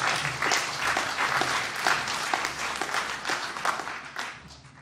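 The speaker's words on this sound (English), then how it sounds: "Yeah, another round of applause." Audience applauding at a university journalism awards ceremony, a dense sustained patter of many hands clapping indoors that swells and then tapers off.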